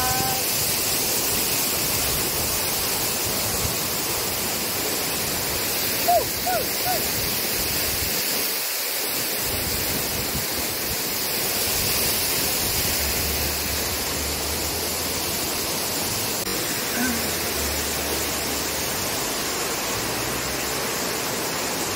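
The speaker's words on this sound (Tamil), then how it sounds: "மேகமலை ஊட்டி ஃபால்ஸ்." Chinna Suruli waterfall at Megamalai gives a loud, steady rush of falling water that fills the whole scene, with faint voices now and then under the roar.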